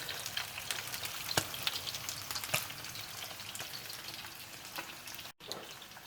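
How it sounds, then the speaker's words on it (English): Trout sizzles and crackles steadily as it fries in butter in a pan, with scattered pops over a constant hiss and a brief dropout near the end. "Now you need to fry it until it's golden brown"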